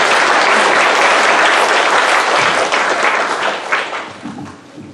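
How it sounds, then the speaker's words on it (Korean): A church congregation at a Sunday morning service applauds loudly to welcome a pastor, a dense burst of many hands clapping at once that holds steady, then thins and fades toward the end. "우리 목사님 나오실 때 큰 박수로 한번 환영하겠습니다."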